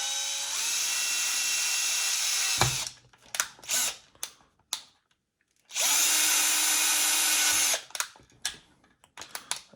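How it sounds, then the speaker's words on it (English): A power drill bores holes into a Hasbro wand kit housing, with two long high-pitched whining runs, each followed by short stuttering bursts and clicks. "So I'm just going to drill a couple of holes here."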